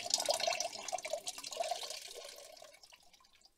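Water drains off small chickpeas in a kitchen, heard as close, splashy trickling and dripping that is strongest at first and then thins and fades over a few seconds.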